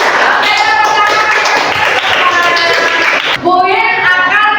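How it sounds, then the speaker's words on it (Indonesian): Children in a classroom clap their hands together in a lively burst, close and loud, mixed with chanting or singing voices throughout. "Oke, tepuk tangan."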